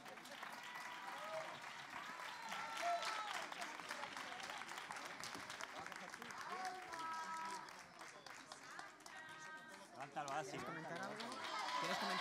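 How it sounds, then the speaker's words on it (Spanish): Sustained crowd applause at the 2023 children's carnival in Almería, Spain, steady and dense throughout with festive chatter and music mixed beneath, swelling slightly near the end. "Fuerte aplauso para May y Sandra."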